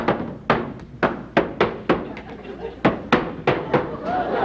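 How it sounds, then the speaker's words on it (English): Repeated sharp thumps from a drum being struck on the set of a Red Skelton Show comedy sketch, about a dozen uneven, loud hits in quick succession with some room noise between. "I was hitting the drum here."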